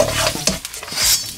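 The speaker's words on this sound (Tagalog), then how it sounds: "Maggigisa lang tayo ng garlic," Garlic sautéing in a pan with oil for a Filipino soup, a steady soft sizzle broken by scraping stirs of a utensil against the pan, close and fairly loud, with no talking.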